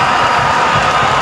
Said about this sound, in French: les ovations du public du stade Omnisport Amadou Ahidjo qui applaudit donc la sortie du capitaine Vincent Aboubakar